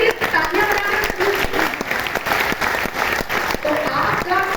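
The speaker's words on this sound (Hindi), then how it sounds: "अपने लिए तालियां बजाइए।" A seated audience at a motivational talk claps for themselves, with loud, close, ragged applause made of distinct sharp hand strikes that are rhythmic in places, while murmuring and cheering voices mix in.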